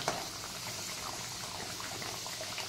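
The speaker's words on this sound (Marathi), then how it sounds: "मंद आचेवरच तुम्ही तळून घ्यायच्या आहेत." Spinach and pea khasta kachori frying in oil over a low flame, a soft continuous bubbling hiss, quiet and steady with no voices.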